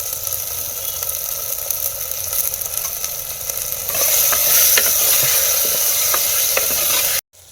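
Turkey berries fry and sizzle in a clay pot while a utensil stirs them, a loud, close, continuous crackle with scraping strokes that grows busier partway through before cutting off abruptly.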